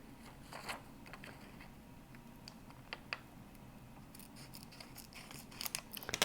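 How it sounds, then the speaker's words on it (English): Small scissors snip quietly at a workbench while cutting tiny points out of a stamp mask for a silver clay project, making faint, irregular clicks that grow a little busier toward the end. "And then I can get in with the little scissors and I can cut out these little points."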